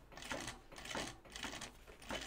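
A home sewing machine running stitch by stitch along a quarter-inch seam on a pocket bucket bag, heard in about four short, quiet bursts of rapid mechanical whirring with brief pauses between them.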